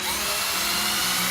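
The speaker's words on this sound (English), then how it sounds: "So you put that on there, grab your drill," A handheld drill spins a polishing cone against a Jeep Wrangler wheel, giving a steady, loud, close whine that holds constant throughout with no talking.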